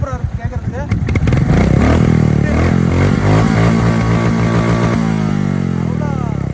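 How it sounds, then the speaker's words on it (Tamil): Royal Enfield Goan Classic 350 motorcycle engine revving up from idle into a loud, steady thrum with rising pitch, close by, with some clatter early on. "அந்த இன்ஜினோட சவுண்ட் வந்து அவ்வளோ சூப்பராக இருக்குது கேட்குறதுக்கு."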